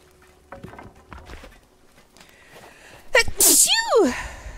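A loud, close sneeze bursts out near the end, preceded by a sharp intake and followed by a descending vocal tail, after quieter scattered thumps and faint sounds during co-op play of Sons of the Forest.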